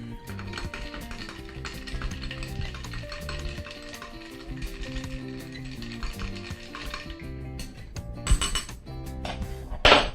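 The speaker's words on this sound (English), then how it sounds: "Give this a quick stir." A spoon stirs a Bloody Mary cocktail in a glass, making a run of light clinks and soft liquid swirling, with sharper glassy taps near the end.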